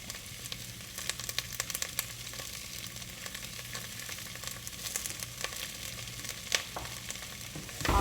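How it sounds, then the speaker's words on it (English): Mushrooms and garlic frying in olive oil for Tom Kha soup, a steady soft sizzle with scattered crackles and light pops throughout, fairly quiet and close, with no talking. "we just let this cook down for a few minutes"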